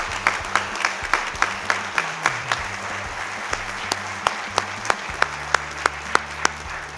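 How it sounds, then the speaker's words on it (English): Audience applause at a state memorial fund announcement ceremony, with scattered individual claps rising in a steady rhythm above a low room hum. "give her a round of applause"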